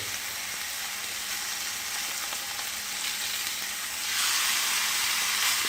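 Steady, loud sizzling of steak searing in a hot pan, continuous crackle and hiss that swells even louder near the end.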